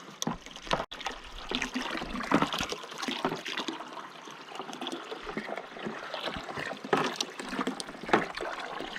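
A 1/3 hp Little Giant submersible pump fills a 32-gallon trash can, giving a steady, continuous trickle and splash of running water with small gurgling surges throughout, close and moderately loud.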